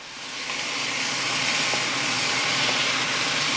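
Prawns stir-fried in a hot wok with chilli, tomato, onion and garlic give off a loud, steady, close sizzling hiss that holds almost unbroken throughout, with no voices.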